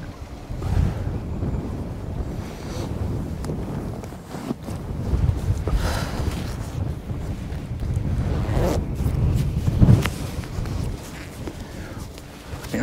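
Strong wind buffeting a fishing boat on open water, a loud continuous low rumble with gusty surges, with voices faintly underneath.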